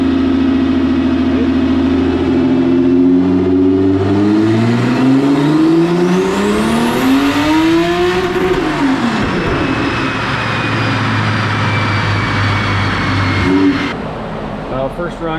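An Audi B5 S4 with a freshly rebuilt engine, turbocharged at about 8 psi, revs up hard on a chassis dyno, its note climbing steadily through a loud pull, then dropping off and settling back to a lower drone.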